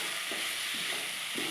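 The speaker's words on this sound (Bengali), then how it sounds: "এবার এটাকেও একটু আমি আলুটাকে দিয়ে একটু কষিয়ে নেব।" Fried potatoes tossed with turmeric and spices in a pan, a bright steady sizzle with a few quick spatula scrapes in rhythm, close and fairly loud, no talking.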